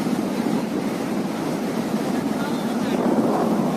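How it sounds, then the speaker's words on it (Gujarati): Steady wash of sea waves from an incoming tide at Porbandar Chowpatty beach, with a boat engine's low rumble blended in, continuous and fairly loud with wind buffeting the microphone. "બોટનો અવાજ, પેલી ભરતી આવી રહી છે"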